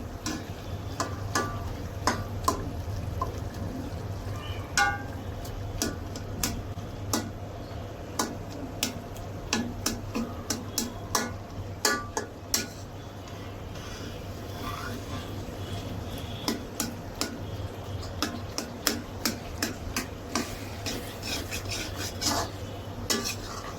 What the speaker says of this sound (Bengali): এখন আমি এভাবে থেঁতা করে দিব মিষ্টি কুমড়া।